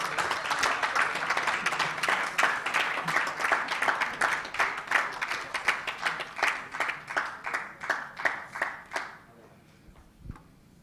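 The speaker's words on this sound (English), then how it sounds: "Another round of applause for Mr." A room of guests at a school retirement appreciation luncheon claps warmly for about nine seconds, the applause thinning into a few scattered claps before it stops.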